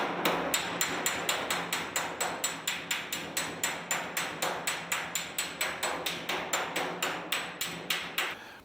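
Steady hammer blows pounding dents out of a bent car body panel during bodywork prep, about three strikes per second in an even, unbroken rhythm, close and crisp with a metallic ring.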